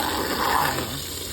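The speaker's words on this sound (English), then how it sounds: "I'm just gonna give them a little tap of water" A short burst of water splashes and pours onto garden container plants, with a steady rushing wash close by and no voices.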